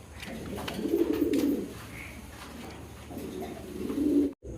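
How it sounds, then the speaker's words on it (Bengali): Racer pigeons cooing in a loft where fancy breeding pigeons are kept, two swelling bouts of low, throaty coos close by, the second after a short pause, with no talk over them. "এখানে দুইটা নর দেখতে পারতেছেন, সবজি রেসার কবুতর"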